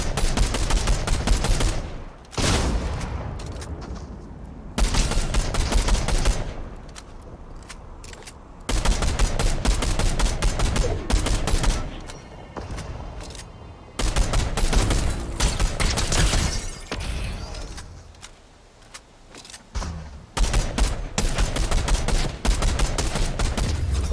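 Sustained rapid automatic gunfire in the video game Fortnite, loud, dense bursts filling most of the stretch, broken by a few short lulls.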